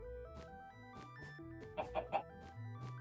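Video-game chickens cluck in three quick, close bursts near the middle, set over a steady backdrop of tonal game music and ambient sounds.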